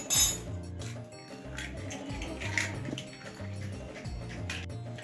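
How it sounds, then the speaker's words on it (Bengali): Eggs are cracked into a bowl: a series of light clinks and taps on dishware, quiet and close, with faint background music underneath. "একটা বাটি নিয়ে নিয়েছি, প্রথমে হচ্ছে ডিমগুলোকে ফাটিয়ে নেব।"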